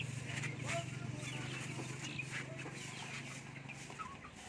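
Crossbreed native chicks, three sold together (one male, two female), cluck and chirp in scattered bursts over a steady low hum, with faint voices in the background.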